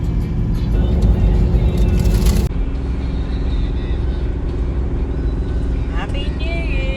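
A Toyota LandCruiser 76 Series driving on a road, a steady low engine and road rumble heard from inside the cabin, loud and continuous, with a brief higher whine near the end.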